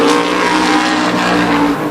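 A tour-type modified race car roars out of turn 4 on a stadium short track during qualifying, its loud, steady engine note sustained close by for the whole stretch with no talk.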